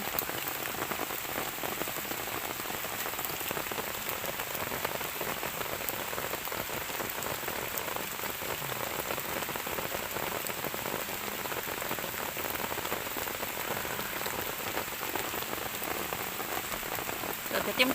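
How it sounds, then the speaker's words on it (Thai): Heavy rain pours steadily on an outdoor spot during termite mushroom digging, a dense, even hiss with close patter that stays constant for the whole stretch and never lets up. "ฝนตก พี่น้อง"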